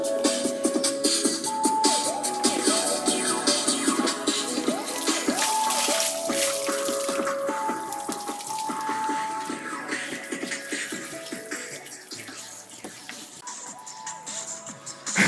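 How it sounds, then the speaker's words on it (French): Water pours steadily from a watering can onto a Mpow Armor portable speaker as it plays music, a continuous trickle and splatter mixed with the tune for the whole stretch. "On prend l'arrosoir."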